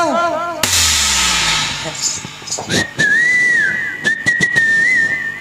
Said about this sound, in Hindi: चल सिटी मार मारी के देख तो ले तो